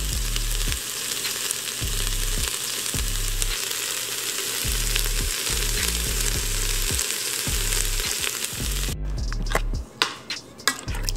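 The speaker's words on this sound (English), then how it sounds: "then we're going to let this sear for a little while, or saute for a little while here" Vegan black bean and corn chili ingredients sauté in an Instant Pot with a steady, loud sizzle, cut by a rhythmic series of low knocks and stirring clatters, ending in a few sharp utensil taps.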